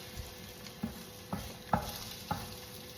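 French toast frying in a pan, a soft steady sizzle under a few light, evenly spaced taps and scrapes of a utensil against the pan, quiet and close.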